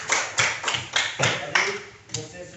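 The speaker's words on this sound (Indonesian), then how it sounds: "Tepuk tangan." A small class of schoolchildren claps in short, separate bursts of about five or six rhythmic rounds, close and fairly loud, with no talk.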